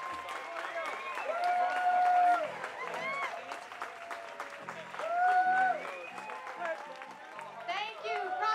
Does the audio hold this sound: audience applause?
yes